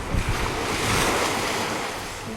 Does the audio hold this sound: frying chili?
no